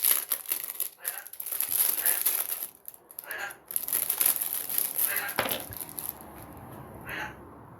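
White wrapping paper crinkles and rustles up close while a parcel is unboxed, in bursts of handling with short pauses between them and a little quiet talk mixed in.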